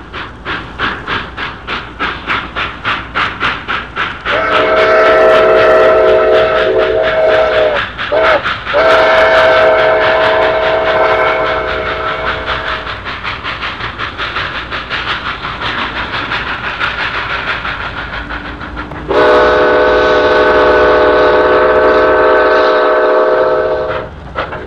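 Southern Pacific 2475, a steam locomotive pulling a 1958 New Year's Day excursion train, departs San Jose on the Milpitas line with rhythmic chuffing and two long, loud whistle blasts.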